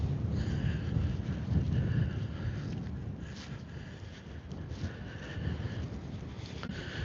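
Wind buffets a microphone outdoors on a bright sunny day, a low rumbling roar that swells and eases in gusts, steady and fairly loud, with no talking.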